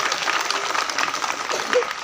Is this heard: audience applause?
yes